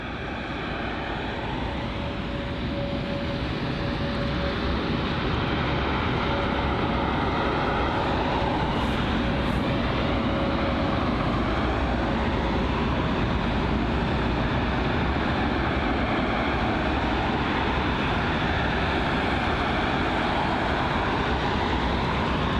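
A jet aircraft at London Heathrow airport roars steadily and loudly at close range, a broad sustained engine noise that swells slightly over the stretch and carries no voices.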